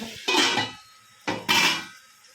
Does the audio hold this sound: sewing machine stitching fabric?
no